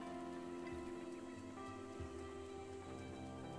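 Steady rain falls in the video game The Legend of Zelda: Breath of the Wild, a continuous patter on the ground heard alone. Low game tones and faint music run beneath it.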